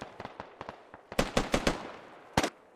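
Gunfire in a military shooter game: a ragged string of sharp shots, a few light pops early and then a run of louder bursts, with one last heavy double report near the end.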